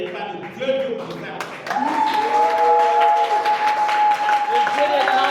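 Church congregation applauding and cheering together, a swelling wash of clapping that grows louder after a brief dip, with a voice and sustained tones carrying over it.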